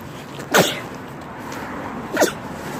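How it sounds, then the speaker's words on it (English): Two quick sneezes, one after the other with a pause between, close and fairly loud over a soft background hiss. "I'm gonna sneeze."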